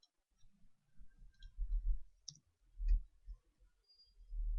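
Computer mouse clicks while configuring network routers, a few short sharp clicks spaced irregularly among quiet low handling noise, close and fairly soft.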